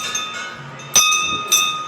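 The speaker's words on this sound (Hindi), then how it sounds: "घंटी" A metal temple bell at Dongargarh rings out, struck twice in close succession. Each strike leaves bright, sustained ringing tones that decay slowly over faint background sounds.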